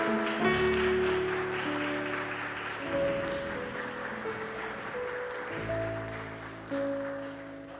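A church congregation stands and applauds, a continuous wash of clapping with a few surges, heard close and fairly loud over a sustained musical backdrop.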